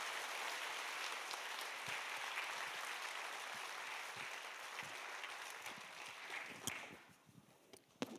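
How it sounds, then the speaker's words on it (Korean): Sustained applause from a church congregation at a family praise festival, a steady dense clapping that carries on for several seconds before tapering off with a few scattered final claps. "참여하신 모든 분들에게 격려의 박수를 드림으로"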